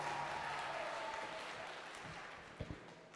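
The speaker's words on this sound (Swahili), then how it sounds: "Wapigieni makofi kama mnawapenda tafadhali." An audience applauds a church choir, a faint, distant wash of scattered clapping that fades gradually, ending with a few close thumps and knocks.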